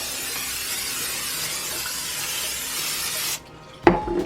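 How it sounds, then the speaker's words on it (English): Cooking oil spray hisses steadily onto dough rolls for a few seconds, then stops, followed by a soft clatter of handling. "Then I spray the tops again."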